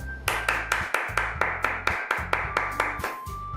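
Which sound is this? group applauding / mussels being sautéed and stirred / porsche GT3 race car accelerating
group applauding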